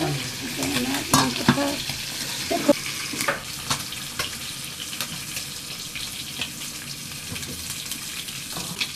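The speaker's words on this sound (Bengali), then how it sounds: "মাছগুলো আমার কড়া করে ভাজা হয়ে গেছে" Hilsa fish pieces fry in oil until crisp, a steady sizzle with repeated scraping and stirring clanks of a utensil in the pan, loudest early and settling later.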